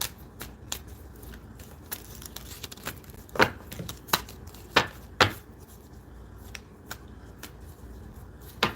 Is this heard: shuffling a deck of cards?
yes